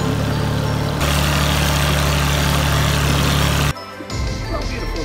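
A fishing boat engine idling close by, a loud steady low rumble that cuts out abruptly near the end, leaving quieter lapping and ambient noise.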